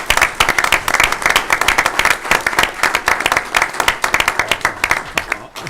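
Applause at a board meeting for Liz Maldonado, the honoree's wife, as she stands: loud, close, vigorous clapping from a room of people, a sharp rhythmic patter that holds strong to the end.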